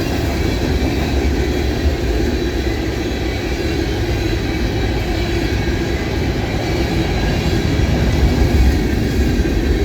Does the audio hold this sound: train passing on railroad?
yes